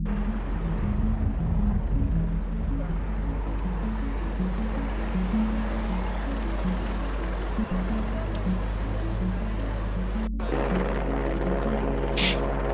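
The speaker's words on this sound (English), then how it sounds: "I got the helicopters out too." Helicopter flying overhead at a protest, a steady low rotor drone with pulsing thuds held throughout, mixed with street noise and a brief clatter near the end.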